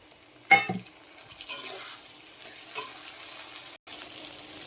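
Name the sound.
tomato added to frying spice paste, sizzling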